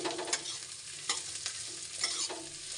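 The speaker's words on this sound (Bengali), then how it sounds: "চলো লাল লাল করে ভেজে নিই পেঁয়াজ কটা" Onions fry to a deep red in a pan, giving a quiet continuous sizzle broken by several brief stirring scrapes, close and fairly faint, with no voices.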